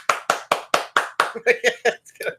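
Sharp hand claps ring out one after another, about ten in a quick steady rhythm that loosens toward the end, close and crisp in a quiet room.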